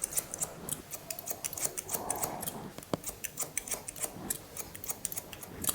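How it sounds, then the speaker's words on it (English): Scissors snipping hair during a men's haircut in an Alex Turner AM-era style, a steady run of quick crisp close snips with a faint rustle beneath. "Keep cutting down to your guide."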